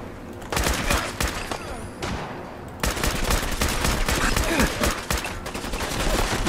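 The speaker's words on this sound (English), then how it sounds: "Being shot up here pretty well." Gunfire hits the player in Fallout 4, a dense, loud fusillade of rapid shots and impacts that runs almost continuously with only brief gaps.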